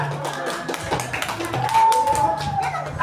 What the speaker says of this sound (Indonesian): Tepuk tangan dulu untuk teman yang bacakan.